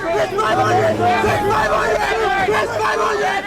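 Loud, dense hubbub of about 240 traders packed tightly in a trading crowd on a Wall Street trading floor, many overlapping shouting voices close by with no pause.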